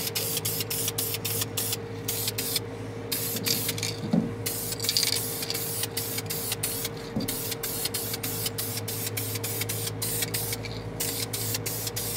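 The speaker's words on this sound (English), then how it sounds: "Frame rejuvenation spray." A spray can of frame rejuvenation spray hisses steadily for a long stretch, broken by brief pauses, with a faint tap or two in the background.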